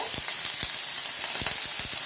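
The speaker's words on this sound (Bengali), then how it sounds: "এই তেলেই আমি অল্প তেলেই আলু আর বেগুনগুলো একটু সামান্য ভেজে নেব" Potato and aubergine pieces fry in a little oil left in the pan after frying fish, giving a continuous close sizzle with repeated crackles and pops.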